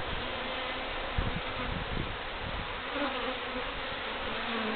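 A feral honeybee colony disturbed during a hive cut-out, with many bees flying and buzzing in a dense, continuous drone that stays close and steady throughout.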